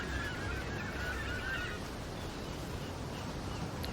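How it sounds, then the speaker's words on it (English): Coastal birds give repeated honking calls on a beach in the video game Path of Exile. The calls are moderately distant and sit over a constant roar of surf and wind. "Birds looking for things to peck away at."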